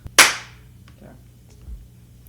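A single sharp hand clap rings out close and loud, decaying quickly into a quiet room.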